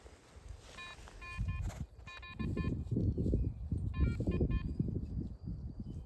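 A metal detector sounds electronic signal tones in short clustered beeps with pauses between groups, over low rustling and scraping close by.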